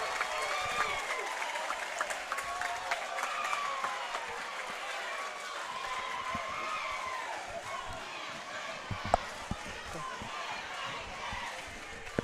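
A crowd at a boys' and girls' district tournament basketball final cheers and applauds, heard faint and distant as a broad wash of noise with a few sharp bangs near the end.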